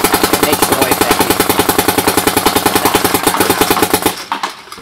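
A Dye CZR paintball marker firing rapidly in semi-auto, a fast, even string of loud close pops that runs for several seconds and stops abruptly as the hopper empties.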